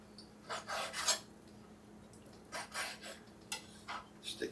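Knife slicing through beef on a cutting board, a series of short rasping strokes in two or three bursts with pauses between, close and fairly quiet, no talking.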